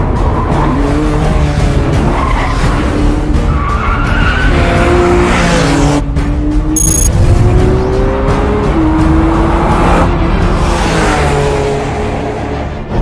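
Porsche 911 sports car with a rear-mounted engine revving hard toward the red line, loud and close, with rising engine tones, repeated upshifts and tire squeal running continuously throughout.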